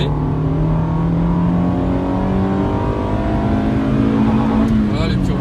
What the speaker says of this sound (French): Là, par exemple, sur 2, je vais accélérer.